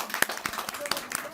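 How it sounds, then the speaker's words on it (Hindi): An audience clapping at a live stage event, scattered sharp hand claps mixed with a Hindi-speaking voice over a mic. "ताली तो बजा दो।"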